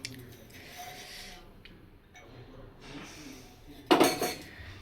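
Dishes and cutlery are washed by hand, clinking and clattering steadily at close range, with a sharp, loud clatter of pots near the end.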